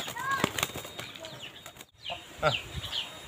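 A pigeon flaps its wings in a few short bursts, close by, with a loud flutter near the start and softer wingbeats later among outdoor rustling.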